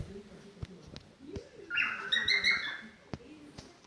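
A pet bird gives a short run of chirps and whistled calls in the middle, with soft clicks and faint background sounds around it, close and fairly quiet.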